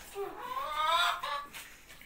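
Chickens in a coop cluck in a short, close run of calls against quiet surroundings.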